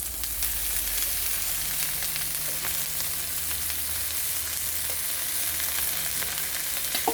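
Noodles and chives fry on an outdoor barbecue hotplate used like a wok for Malaysian mee goreng, a steady close hissing sizzle running throughout with faint scraping stirs and no voices.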